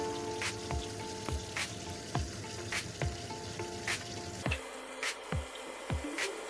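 Ribeye steak frying in hot tallow in a pan, a steady close crackling sizzle broken by rhythmic soft squishy thumps from basting, spaced roughly every half second, with no talking.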